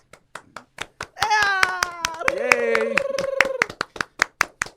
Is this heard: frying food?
no